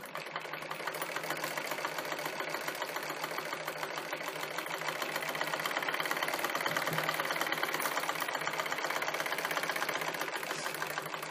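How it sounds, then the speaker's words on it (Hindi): Blouse fabric being double-stitched on a sewing machine, a steady continuous mechanical whirr with rapid needle chatter running throughout at close range. "अब हम इसमें डबल सिलाई करेंगे इस तरह से"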